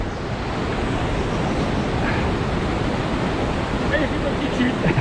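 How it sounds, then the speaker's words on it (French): Loud, constant roar of a Pyrenean mountain torrent rushing by near a waterfall, broadband white water churning close to the microphone with no letup, slight wind buffeting at the end. "de retour à la cascade, enfin au torrent"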